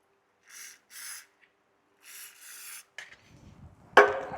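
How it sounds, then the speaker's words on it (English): Lubricant sprayed onto a bushing or ring during a rear sway bar and control arm suspension upgrade, heard as four short close hissing bursts, then scraping handling noises and a sharp clack at the end. "Spritz it up with lube."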